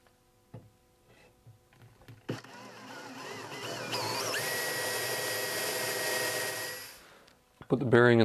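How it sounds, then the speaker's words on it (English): A power drill bores pilot holes in a wooden glider rocker, whining steadily for several seconds with the pitch shifting as it cuts, set between clicks and handling noises before and after. "I can drill the pilot holes and get ready for those screws"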